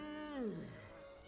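A house cat gives a single meow in an in-game pet preview, a short tonal call that bends downward in pitch, heard clearly and alone.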